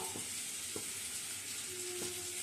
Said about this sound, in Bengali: আলু আর পেঁপে ভাজতে দিয়ে দিচ্ছি